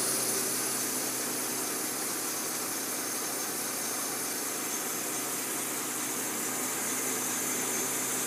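A steady, even drone from a Mercedes-Benz C300 running with a custom cone-filter intake, a constant engine and exhaust hum with no revving.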